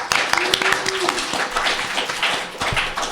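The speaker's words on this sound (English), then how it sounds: "So can we give her a round of applause, please?" An audience at a BronyCAN 2015 convention panel claps in a brief burst of scattered applause with a few voices mixed in, fading into a steadier patter of hand claps.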